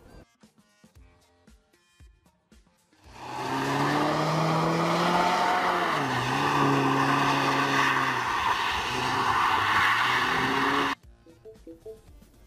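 Mini Paceman car: a loud, sustained engine roar rises and sways in pitch for about eight seconds, as if revving or accelerating, framed by quieter tonal chimes and clicks before and after.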